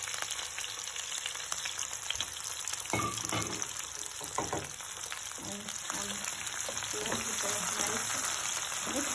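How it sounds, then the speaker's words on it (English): Chopped tomatoes with green chilies frying over a low flame, a steady close sizzle with scattered soft stirring knocks and spatters throughout. "Fry these tomatoes until the tomatoes become mushy."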